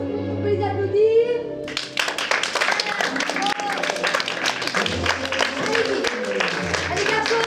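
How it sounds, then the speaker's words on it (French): Applause at a children's Easter course show: a brief voice and music give way to a burst of lively, dense clapping from a small audience that continues steadily, with chatter mixed in. "On peut les applaudir"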